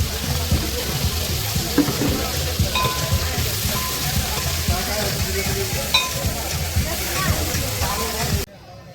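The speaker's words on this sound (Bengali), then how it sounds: "মাছ ভাজা প্রায় শেষের দিকে" Hilsa fish frying in a pan, a loud dense continuous sizzle and spatter of hot oil heard up close, with a few faint clinks, ending abruptly near the close.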